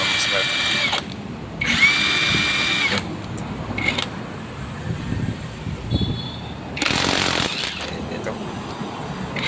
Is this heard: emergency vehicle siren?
no